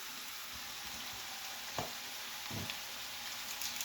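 Carrots and potatoes frying in a pan give a steady broadband sizzle, with a couple of brief stirring scrapes partway through.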